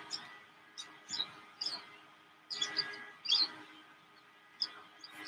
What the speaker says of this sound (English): These are the white-fronted bee eaters.